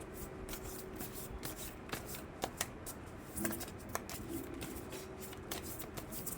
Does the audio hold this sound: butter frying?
no